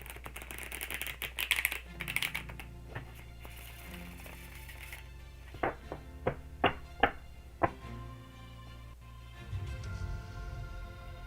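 A deck of tarot cards is shuffled with a riffling rush, followed by several sharp taps as cards are knocked and squared, close and fairly quiet.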